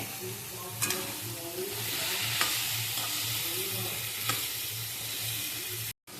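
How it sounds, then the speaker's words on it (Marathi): Masala sizzles steadily in hot oil for a kantolya vegetable dish, with a continuous frying hiss and occasional stirring clinks of a spoon against the pan, close and fairly loud. "हा मसाला शिजवून घेऊया ती पण चांगली आता तेलात फ्राय करून घेऊया"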